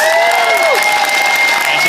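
Audience applause with cheering at a live fan event honoring actors Anthony Daniels and Billy Dee Williams, a brief, steady, loud wash of crowd noise with a whistle-like tone running through it.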